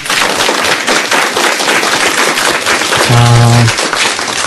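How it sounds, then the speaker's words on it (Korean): Applause from a seminar audience welcoming a lecturer to the stage of a talk on self-esteem: a dense, steady burst of clapping fills the whole stretch, with a short low tonal hum near the end. "큰 박수로 청해 듣겠습니다"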